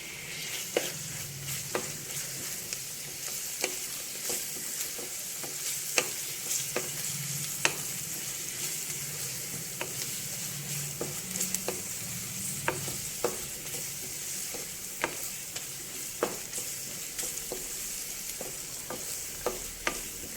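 Ginger garlic paste frying with onions in a pan for a Telugu mutton and chana dal curry, a steady close sizzle with frequent clicks of a spoon stirring and scraping, no talking.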